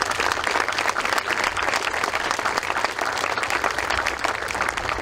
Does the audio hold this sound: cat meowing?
no